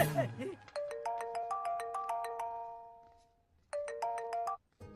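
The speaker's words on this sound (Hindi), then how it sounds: "भैया, आपको किसी का फोन आ रहा है।" A phone ringtone plays a bright, repeating electronic melody, stopping briefly and then starting again, after a short burst of talk at the beginning.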